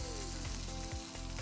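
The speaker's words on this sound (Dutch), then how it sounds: "Ga ik ze nu grillen in de grillpan." Marinated BBQ drumsticks sizzle and spit in a very hot grill pan, a steady loud frying hiss running through the whole moment with a few brief scrapes or shifts of the meat.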